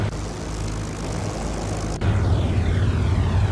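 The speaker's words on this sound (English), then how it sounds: "I'm quite okay with grassy surface taxiing" A de Havilland Mosquito in the IL-2 Great Battles flight game taxis over a grass field, its engines giving a steady, loud drone that steps up sharply in power partway through and holds there.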